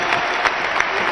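Large crusade congregation in Colombia clapping loudly in praise, a brief dense burst of many hands with a few sharper claps standing out.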